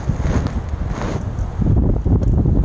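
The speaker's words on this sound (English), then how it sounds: "This wind is kicking butt." Strong wind gusts buffet the microphone at a KOA campground during car camping, a loud continuous low roar and rumble that swells toward the end.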